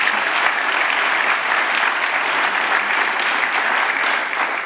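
Audience clapping at an ocean conservation talk, a loud, dense, steady round of applause from a large crowd that continues for several seconds.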